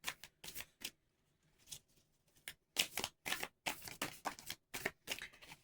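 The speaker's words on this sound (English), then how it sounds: "So let's get us a couple of Art of War Tao Te Ching cards." Oracle cards from an Art of War / Tao Te Ching deck being shuffled and drawn by hand, with bursts of crisp riffling and flicking separated by short quiet gaps, close and fairly soft, with no talking.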